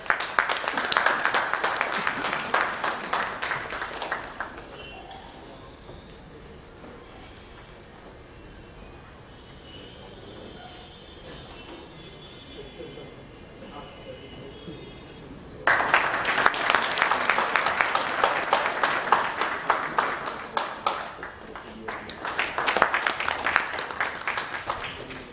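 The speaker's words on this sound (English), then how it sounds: "Let's give a big round of applause." An audience at the Smart City Build Bihar 2016 inaugural event bursts into loud sustained applause, which fades to a quieter patch before a second strong wave of clapping returns.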